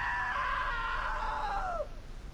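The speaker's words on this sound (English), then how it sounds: "Now that was a great scream" A long, loud wavering scream from a character in the video game What Remains of Edith Finch stretches for nearly two seconds, then bends downward and cuts off abruptly.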